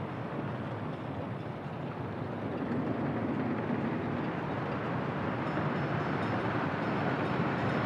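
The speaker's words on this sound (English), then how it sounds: "Here comes another train." A train pulls into a station in the city-building game Workers & Resources, a steady, loud rumble of rolling wagons that swells slightly partway through and holds without pause, with no talking.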